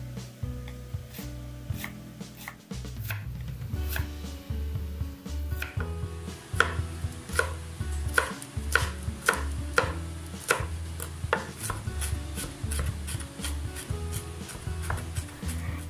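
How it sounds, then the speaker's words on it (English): Rapid, steady knife chops through onion and green chillies on a cutting board, a dense run of crisp close taps continuing throughout with no talking. "Chopping a medium-sized onion, 3 to 4 green chillies."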